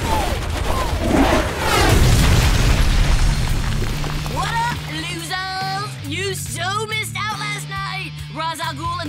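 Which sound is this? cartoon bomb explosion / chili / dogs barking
cartoon bomb explosion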